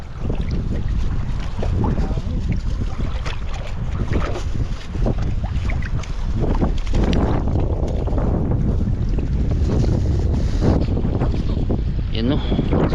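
Strong wind buffets the microphone in a constant low roar while fishing from a boat, with water and boat noise mixed in and brief bits of voice.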